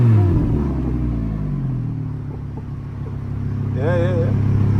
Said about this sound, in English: it's equipped with the Audi performance exhaust, and it pops, crackles,